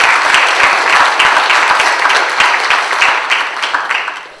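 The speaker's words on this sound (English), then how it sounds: "Y'all can give him a hand clap." A church audience applauds with dense, steady hand clapping for several seconds, loud and close, with no talk over it and a slight fade at the end.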